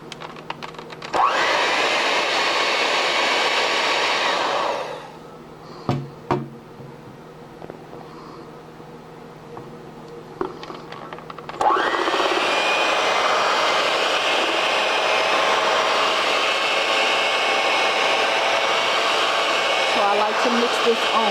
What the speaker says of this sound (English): I love to use an electric mixer to mix my filling with.